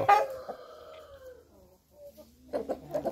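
Chickens on a Brazilian farm cluck and crow nearby, a drawn-out crowing call followed by several short clucks, with no talk in between.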